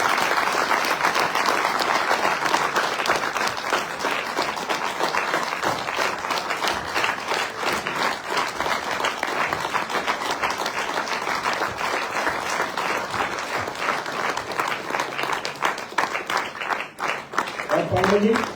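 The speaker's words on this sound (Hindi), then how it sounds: "जोरदार तालियों से स्वागत करेंगे।" An audience at a panel discussion on women entrepreneurs in direct selling gives a long, steady round of applause, dense even clapping that continues for nearly twenty seconds before tapering off.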